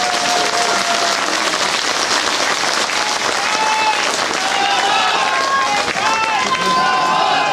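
Dense, loud crowd applause at a political rally in Chhatarpur, many hands clapping continuously with scattered cheers and shouting voices, sustained at an even level throughout.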